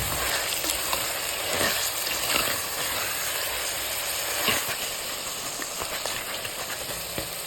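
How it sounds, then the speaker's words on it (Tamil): Brinjal and drumstick pieces hit hot oil in a pan for a clay-pot fish curry. They sizzle and hiss steadily, close up, with faint stirring scrapes throughout. "இப்போ இந்த கத்திரிக்காயையும் இந்த முருங்கைக்காயும் நம்ம சேர்த்துக்கிறோம்."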